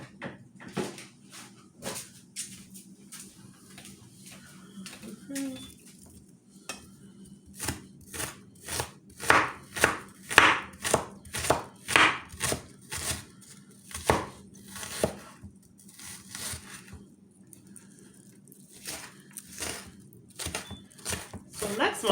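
Knife chopping onions on a cutting board in a home kitchen: a run of crisp, regular close thuds that starts sparse, then speeds into a steady rhythm. A voice talks briefly early on.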